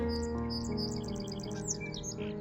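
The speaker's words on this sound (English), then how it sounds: "It's kind of neat to hear the seagulls too." Seagulls chirp and call in quick bursts over a steady tonal hum at the Soo Locks, moderately close and fairly clear.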